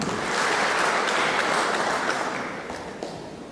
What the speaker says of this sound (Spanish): Quiero pedirles un cariñoso aplauso